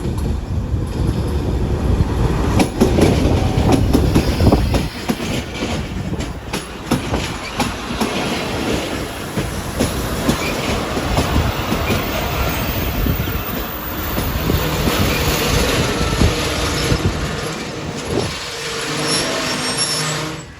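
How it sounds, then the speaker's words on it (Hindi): Bolan Mail passenger train running between Braudabad and Landhi, heard from on board: a loud, steady rumble of wheels on rails with rattling carriages and faint clickety-clack, continuous throughout with no talk. "तो बस अब रवाना हो गई हमारी ट्रेन यहाँ से।"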